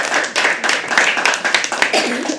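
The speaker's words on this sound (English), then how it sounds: "Can we keep the applause going for our next performer of the afternoon, Gunjan?" An audience at a live poetry open mic applauds with steady, dense clapping close by, sustained throughout.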